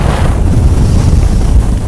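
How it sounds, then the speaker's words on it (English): Loud wind buffeting the microphone with a low roar of choppy water on the Intracoastal Waterway, constant throughout with no speech. "It's a little bit windy today. A little bit wavy."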